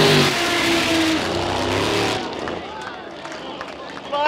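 Unlimited displacement race cars roar past at Raymond Terrace in a charge to the checkered flag, loud engine revving that drops to a fainter fading drone, with an announcer talking over the top.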